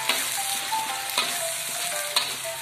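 Spices and kaffir lime leaves stir-frying in a pan for an oyster-sauce crab dish, a steady close sizzle with a few sharp scrapes of the spatula, no voices.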